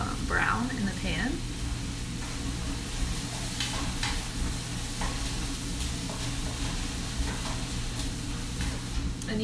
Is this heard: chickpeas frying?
yes